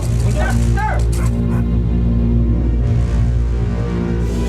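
Dogs barking and yipping in short bursts near an abandoned building in a Filipino horror drama, under a loud, continuous background hum, with some whimpering tones.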